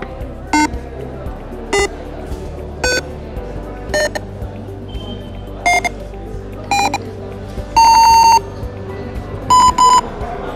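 A piezo buzzer beeps a sequence of separate tones stepping upward like a musical scale, each short note sharp and shrill, with a faint hum beneath.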